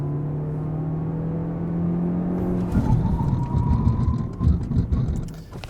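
A Peugeot 408 GT PHEV plug-in hybrid accelerates hard toward 100 km/h, its electric whine rising in pitch then joined by a building engine roar with gear-change surges, loud and close throughout.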